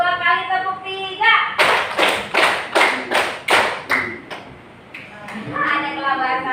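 Children's clapping game in a classroom: a run of crisp, evenly spaced group claps in a quick rhythmic pattern, with a teacher's voice talking before and after.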